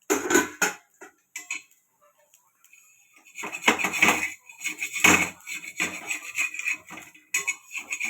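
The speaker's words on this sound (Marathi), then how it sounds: "आता आपण उघडून उलटवून घेऊया." Sabudana and potato thalipeeth being uncovered and flipped on a hot tawa, with a few metallic clinks and scrapes of lid and spatula in irregular bursts separated by brief pauses.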